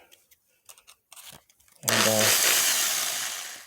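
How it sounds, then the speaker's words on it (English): A power drill with a porting attachment spins up hard after a few soft handling clicks and a spoken word, then runs loud and steady on an LS cylinder head's exhaust ports, easing off slightly toward the end. "run the drill backwards so it don't go on like I just did"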